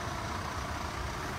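A gas-powered Scania truck, a P410 with a Kevlar fuel cylinder, rumbles past in a convoy of Scania trucks, giving a steady loud low engine drone close by.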